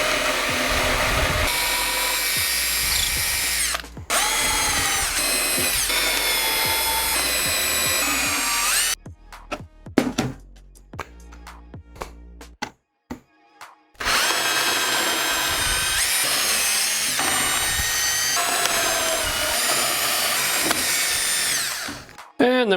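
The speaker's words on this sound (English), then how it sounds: "We're going to pre-drill some holes." A power drill pre-drills holes in scrap wood for an outdoor projector stand, whirring loudly in long steady bursts with a short break of clatter and handling noise in the middle.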